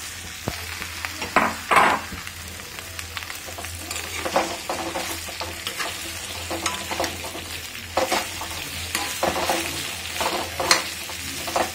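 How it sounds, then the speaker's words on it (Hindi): Okra (bhindi) shallow frying in the same oil used for the previous batch, with a steady close sizzle and a few louder bursts and stirring scrapes across the stretch, covered on medium heat. "भिंडी को भी शैलो फ्राई कर लेंगे।"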